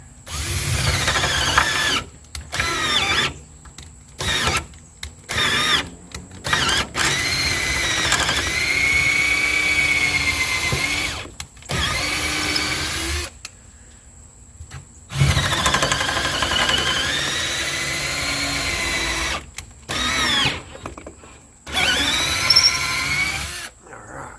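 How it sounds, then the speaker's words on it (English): A power drill whines in repeated bursts as it bores holes in wood for boat seats, revving, bogging down on a knot and stopping between holes, close and loud. "Drill holes are done."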